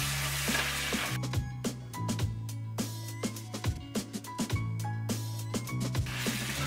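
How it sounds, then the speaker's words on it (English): A pot of ginger, cayenne and red pepper flakes cooks over medium-high heat, giving a constant sizzle under a low steady hum, with frequent short clicks and knocks throughout. "Now we're just going to let this simmer on a medium-high heat, let those flavors develop"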